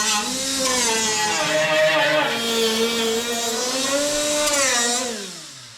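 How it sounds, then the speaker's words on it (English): A die grinder fitted with cleanup discs scours rusty metal on Datsun 280Z frame rails, giving a close, loud, steady whine whose pitch wavers and dips for about five seconds before tapering off. "I'm going to clean it up with my cleanup discs that I've been doing with my die grinder"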